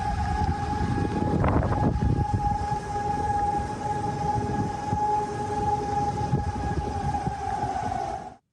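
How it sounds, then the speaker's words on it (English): Tornado warning sirens wail across Oklahoma, a sustained steady tone holding from start to finish over a rumbling, noisy background that rises briefly near the beginning. "So the sound of sirens and tornado warnings there"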